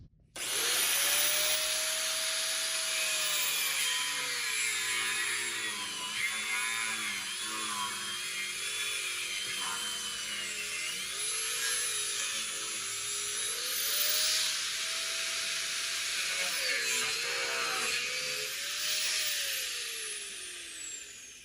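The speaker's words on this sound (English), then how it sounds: "a cutoff wheel kind of melts the plastic, can make a little bit of a mess" A cutoff wheel slices through a plastic air dam motor part from a 2022+ Toyota Tundra front bumper, a loud close continuous high-pitched whine that rises and dips in pitch as the blade loads and frees in the plastic, sustained without talk.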